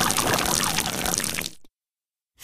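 Cartoon water poured from one container after another into a bathtub, a loud continuous splashing gush that stops abruptly, followed by silence.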